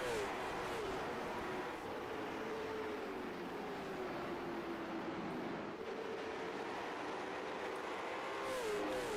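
Race cars roar around Nashville Fairgrounds Speedway in a continuous loud engine drone with rising and falling pitch sweeps as cars pass, a crowd-like wash underneath.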